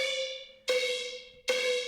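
A synth "yoink" effect built in Serum for a drop remake repeats three times, each a bright, buzzy tone that swoops down in pitch and decays before the next hit, loud and alone.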